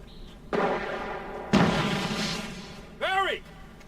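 Video game gunfire in Alan Wake: two heavy, booming shots a second apart, each trailing off in a long rumbling decay, followed by a short burst of a voice.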